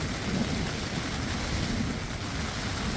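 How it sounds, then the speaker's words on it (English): A thunderstorm at a campsite, with a steady, dense roar of rain and a low rumble of thunder filling the air throughout, loud and close, with no voices. "Thunderstorm!"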